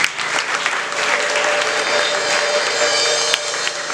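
A church audience claps loudly and continuously for a missionary, a dense, even wall of applause with no break from start to finish.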